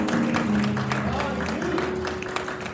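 A church congregation clapping during a Sunday worship service celebrating a mortgage burning, a continuous patter of many hands with a sustained tone and voices mixed in beneath.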